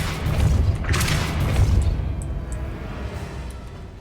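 Depulso force spell cast in Hogwarts Legacy, heard as a deep booming impact with a rumbling tail, a burst of crackly debris early on and fainter scattered hits as it fades.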